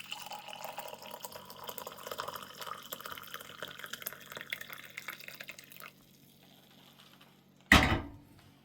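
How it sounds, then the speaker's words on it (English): Cowboy coffee pours and trickles steadily into a cup for several seconds, then stops; a brief thump follows after a short quiet gap. "we'll go ahead and pour ourselves a nice cup of coffee."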